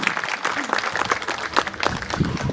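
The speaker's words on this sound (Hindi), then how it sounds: "सबके लिए जोरदार तालियां।" An audience at a cultural festival program applauds the Delhi team, a lively mix of close and scattered clapping that stays steady throughout.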